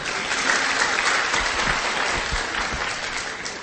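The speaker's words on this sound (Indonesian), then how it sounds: "Kasih tepuk tangan dulu buat Pak Farid" A crowd at a religious talk on charity bursts into loud, dense applause for a man called up front, continuous clapping with scattered cheers throughout.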